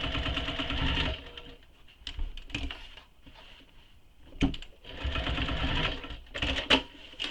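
A sewing machine runs in short bursts while stitching a box with an X on a convertible tote bag, with pauses, back-stitching and small handling clicks between runs.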